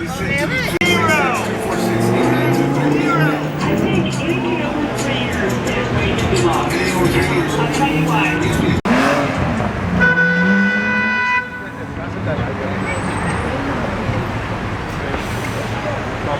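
A car passing on a Beverly Hills street amid traffic, with a steady engine and road roar, a horn toot and background hubbub of people talking nearby.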